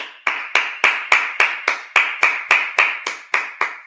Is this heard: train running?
no